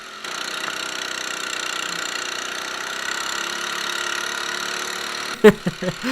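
A steady, laboring go-kart engine drones at an even pitch for several seconds while struggling uphill, then a few sharp knocks and thumps break in near the end.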